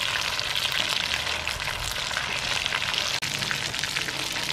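Mutton meatballs frying in hot oil give off a dense, steady sizzle with crackling spatter that holds at an even level throughout, with no talking.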